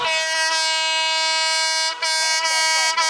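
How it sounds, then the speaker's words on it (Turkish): A loud, sustained horn blares almost continuously, with two brief breaks near the end before it sounds again. "Bas bas bas kornaya."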